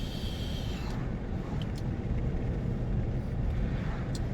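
Car cabin noise while driving on the road: a constant low rumble of tyres and engine with steady road roar, broken by a few faint high squeaks and clicks.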